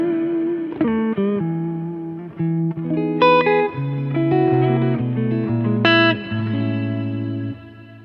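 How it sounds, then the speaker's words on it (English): Clean electric guitar notes and chords played through a guitar pedal's digital reverb in long mode ring out with a long, lush tail, each strum washing into a spacious ambient decay. "I've got 3 different kinds of reverb"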